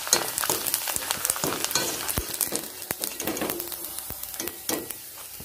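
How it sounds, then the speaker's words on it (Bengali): Small pieces of food fry in hot oil, crackling and sizzling up close at a moderate level, with sharp pops and light utensil clicks scattered through, then settling toward the end. "মাত্র কয়েক সেকেন্ড লাগছে ভাজতে, দেখুন।"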